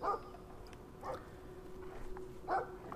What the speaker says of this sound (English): We've got a dog.